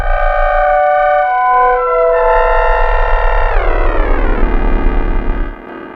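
A loud, distorted synth tone with shifting harmonics, modulated by a higher-tuned FM oscillator, growling and warbling as modulation bends the pitch downward before it cuts off near the end.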